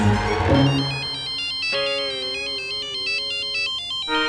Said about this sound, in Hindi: अथर्व की टीचर का फोन है।